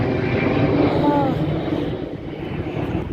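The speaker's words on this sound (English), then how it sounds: "It's such a big, nice plane." A big airplane drones loudly nearby, its engine roar steady and then easing slightly, with faint voices in the background.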